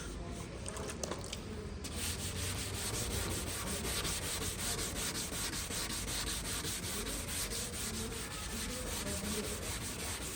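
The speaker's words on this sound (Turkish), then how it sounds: "Şu an ince zımparayla sıvı zımpara yapıyoruz." Steady wet scraping and rubbing of fine sandpaper against a car headlight lens, wet sanding, continuous and close, with no talking.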